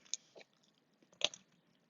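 A couple of brief, close crunchy bites and chewing on air-fried chicken wings with a light batter, two sharp crisp bursts separated by quieter chewing.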